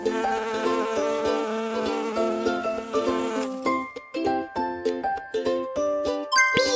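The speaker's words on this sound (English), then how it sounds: "Bee!" A bee buzzes under cheerful children's music, the buzzing tone running through the first half before the music takes over.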